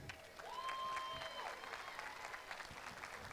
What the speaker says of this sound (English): a round of applause for our future and all those people that we worked so hard to send to school this year